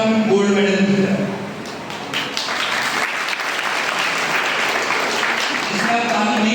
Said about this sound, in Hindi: इसमें आप ताली नहीं बजाते तो भी चलता